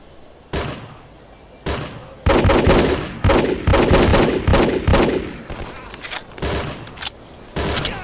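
Gunfire in the tactical shooter Hidden & Dangerous 2: a few sharp shots early, then a dense burst of loud, closely spaced reports followed by scattered single shots, with no talk.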